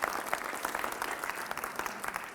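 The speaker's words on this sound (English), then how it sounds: "Round of applause." A high school assembly audience applauds the football players, dense steady clapping from a crowd filling the whole moment without any voices over it.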